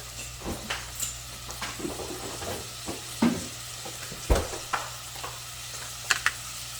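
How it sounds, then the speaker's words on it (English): Butter sizzles softly in a pan for a garlic butter sauce for seafood, with a low steady fry broken by occasional stirring scrapes and light utensil taps against the pan, close by. "now we're gonna just saute this a little bit"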